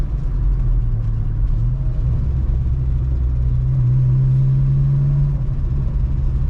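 Volkswagen Jetta Mk2 with a full exhaust and cams, its engine and exhaust droning steadily and loudly from inside the car while driving, a continuous low rumble with slight shifts in pitch and no talking.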